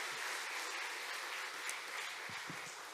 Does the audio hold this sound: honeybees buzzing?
no